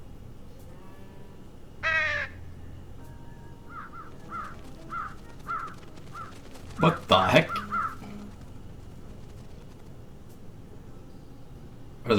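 Pigeons in the video game Truberbrook give a series of crow-like caws, a string of short evenly spaced calls followed by a louder, denser burst, with a brief exclamation spoken over them.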